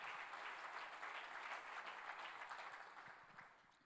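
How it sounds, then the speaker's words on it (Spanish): A church congregation claps steadily for a few seconds, a dense wash of applause that slowly fades toward the end. "Alguien dele un aplauso al Señor."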